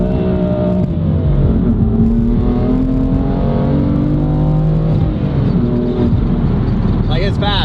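A BMW M4 with an ARMYTRIX exhaust and Stage 2 tune accelerates hard, its engine note climbing through the revs with a shift or two, heard loud from inside the car with someone talking over it.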